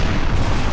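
Frigate broadsides in a Napoleon Total War naval battle, a dense low rumbling boom of cannon fire rolling continuously for under a second, loud and close with no talk.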